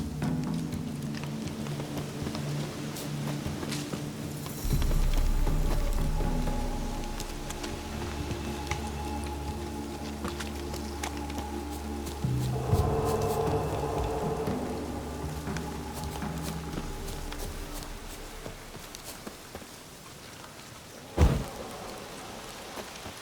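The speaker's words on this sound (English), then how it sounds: "Looks like rain." Rain and thunder in the video game The Witcher 3: steady pattering rain throughout, with low rumbling thunder building midway and a sharp crack near the end, no talking.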